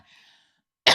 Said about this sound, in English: Excuse me, I'm going to clear my throat.